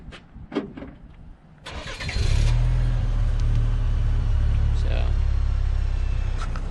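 Remote start of a 2023 Chevy Colorado ZR2 using the key fob: after a few quiet clicks the warm engine cranks, catches and settles into a steady, close idle rumble.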